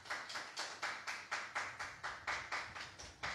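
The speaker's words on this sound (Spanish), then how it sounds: "Dale un aplauso al Señor." A church congregation claps in unison to praise the Lord, a steady rhythmic run of about a dozen claps, fairly faint and heard alone.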